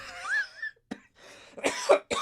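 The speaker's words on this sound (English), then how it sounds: "making myself cough now" A few coughs in quick succession, close and fairly loud, with brief throat noises between them and no talking.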